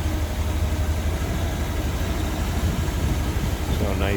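A 1970 Chevrolet Corvette convertible's 454 V8, rated at 390 horsepower, idles with a steady low rumble close by, a constant engine drone running the whole time.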